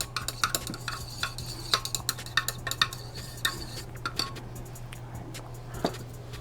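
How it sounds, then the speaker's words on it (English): A homemade foaming face wash mixture is gently stirred in a container, with light clinking taps of a utensil against the sides over a low steady hum, no talk. "So you're going to mix it gently."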